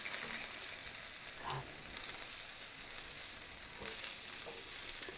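Quiet, steady sizzling of chicken wings frying in a pan with faint crackles and an occasional soft stir or clink, no speech.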